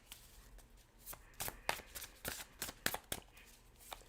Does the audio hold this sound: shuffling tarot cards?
yes